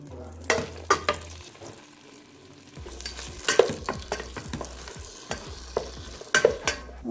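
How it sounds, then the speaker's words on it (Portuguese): Tomato, onion, garlic and bell pepper frying together in lard, with a soft sizzle broken by scattered sharp clacks and scrapes of stirring in the pan, all fairly close and without any talk. "Aqui eu vou largar tudo junto, ó. O tomate, a cebola, o alho e a pimentão."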